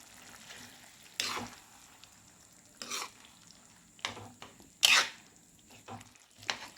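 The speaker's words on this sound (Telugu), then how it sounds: "ఇప్పుడు మనం ముందుగా ఉడకబెట్టుకున్న గోంగూర ఉంది కదండి ఇందులో వేసుకుని మొత్తం కలుపుకోవాలండి కర్రీ అంతా" A spoon stirs boiled gongura leaves into a dried prawn curry in a pan, giving several separate scraping, sizzling strokes at a steady pace, close and fairly loud, with quiet pauses between them.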